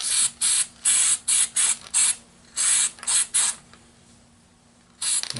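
Spray paint from an aerosol can coating the weld on the back of a repaired metal dustpan, with short bursty hisses in a steady series, a pause, then one more spurt. Close and alone.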